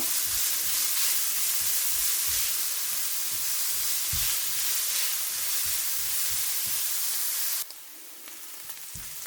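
Onions sautéing in a pan for chickpea curry sizzle loudly and steadily while a spoon scrapes and stirs in repeated strokes. The sizzle drops sharply quieter near the end.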